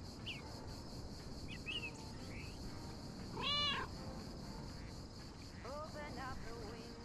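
A cat meows in the video game Lake, a few short high mews at moderate distance over a steady ambient bed with faint bird-like chirps.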